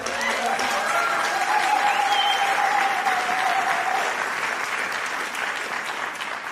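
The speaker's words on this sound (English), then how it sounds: "let's give her a round of applause." Sustained audience applause for Ruth, the founding executive director, fills the room at a steady, dense level throughout, with faint voices mixed into the clapping.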